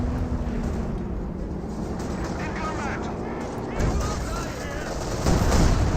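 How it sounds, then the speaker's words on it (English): Landmine going off in Company of Heroes 2 within a constant roar of combat gunfire and artillery, with a louder burst swelling near the middle and another heavier blast toward the end. "detonates a landmine there as well, and that was not a planned landmine detonation"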